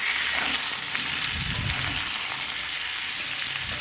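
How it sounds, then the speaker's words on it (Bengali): Cut vegetables for shukto fry in hot oil with a loud, constant hissing sizzle close by, with a few faint stirring sounds underneath. "সবজিগুলো ভালো করে আমি তেলের মধ্যে মেরে নিই"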